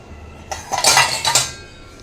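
A copper cooking pot is picked up and set down on a kitchen surface, giving a few close metallic clanks and rattles over about a second, then quiet.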